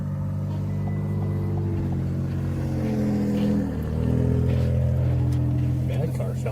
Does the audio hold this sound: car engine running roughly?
yes